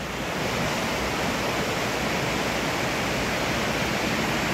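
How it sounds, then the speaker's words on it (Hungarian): A river roars continuously through Bicaz Gorge, a loud, even torrent close by with no voices and no pauses. "meg a víz a robaja vesz körül minket"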